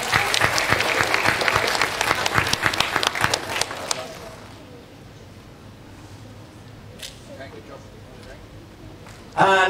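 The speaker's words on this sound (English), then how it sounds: "Another round of applause." Audience applause at a Year 6 school awards ceremony, loud dense clapping for about four seconds that fades to scattered claps, with a short burst of clapping again at the end.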